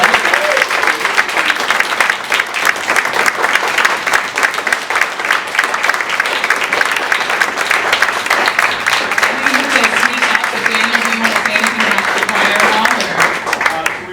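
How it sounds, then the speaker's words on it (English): Sustained, loud audience applause for a choir of University of Cincinnati graduate and undergraduate students and local music professionals at a concert performance, dense steady clapping throughout with a voice briefly audible underneath. "Maybe we can call the choir back in for a second just to give your round of applause"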